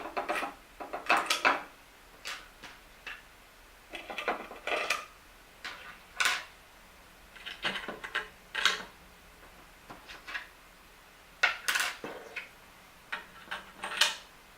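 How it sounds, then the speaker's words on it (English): Metal washers put onto bolts while assembling a BoltCNC DIY router kit: bursts of small metallic clicks and clinks at irregular intervals, close and moderately loud, with no talking. "And now we're going to put a washer onto each bolt."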